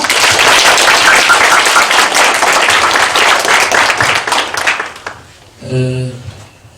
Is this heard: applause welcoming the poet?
yes